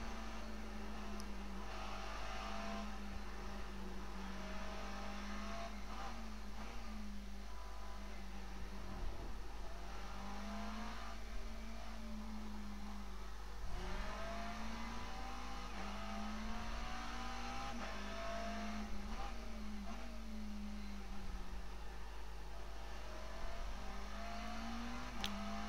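A McLaren race car engine circling Interlagos in the iRacing sim drones steadily for over twenty seconds, its pitch rising and falling with repeated upshifts and downshifts, fairly quiet and with no talking.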